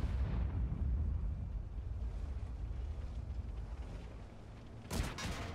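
Gunfire and heavy explosive blasts from a video game match in a tournament semifinal, a dense continuous rumble of shooting with a sharp crackling burst near the end, loud and without talk.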